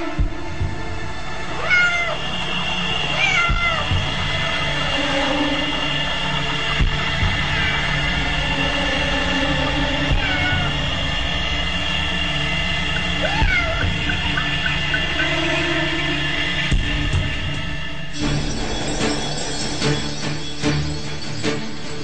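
A cat that keeps stealing fish meows several times in short, rising calls over a steady humming background, fairly close and clear.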